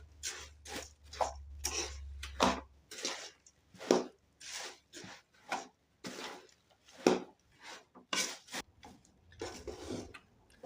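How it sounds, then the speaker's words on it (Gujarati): Puffed rice being stirred with melted jaggery in a pan: a string of crisp, irregular crackling and rustling bursts, close and moderately loud, with a low hum fading after the first few seconds. "તો તમે જોઈ શકો છો મમરાને સારી રીતે મેં મિક્સ કરી નાખ્યા છે"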